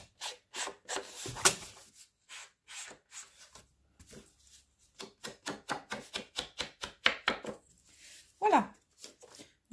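Wax is rubbed by hand onto a handmade card and along its edge in repeated short, scratchy strokes, close and fairly soft, with quiet talking over the rubbing.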